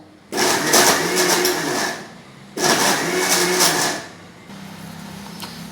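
A grinder runs in two loud, close bursts of roughly two seconds each, grinding soaked urad dal batter with jaggery for sweet vada. Each burst has a whirring motor whine, and a lower steady hum fills the pauses between them.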